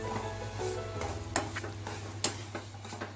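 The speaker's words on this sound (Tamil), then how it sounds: "இது நல்லா கிண்டுணுங்க." Bread halwa being stirred in a pan makes soft scraping and tapping strokes over a low, steady hum, with a couple of sharper clicks from the spoon against the pan.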